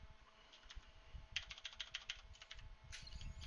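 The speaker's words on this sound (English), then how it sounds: "I'm gonna steal a little bit of page real estate on this document just so I can start typing up some ideas" Quiet typing on a computer keyboard, with irregular soft key clicks that come in short bursts and pause between them, close and alone with no talk.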